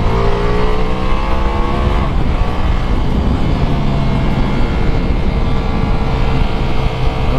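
A 2021 Ducati Multistrada V4S, a 170 hp V4 motorcycle, screams around a racetrack at full throttle, its loud, close engine climbing through the revs, shifting, then pulling hard again, steady and without talk.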